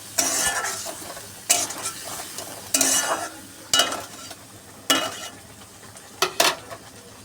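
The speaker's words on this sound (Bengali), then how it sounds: "চলো এবার ভালো করে কষিয়ে নিই, তারপরে এঁচোড় আলুটা দিয়ে দেবো ভাজা করা" Ground and paste spices with chilli powder and a pinch of sugar being stir-fried in a pan, heard as a close, steady sizzle broken by about six sharp scrapes and clatters of a spatula against the pan.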